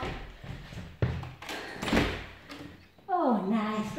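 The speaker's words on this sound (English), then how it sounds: "I'm just going to open my big doors." Big doors pulled open during a home workout session, with thuds, a slide and a sustained rumble of movement, followed by a voice speaking over it near the end.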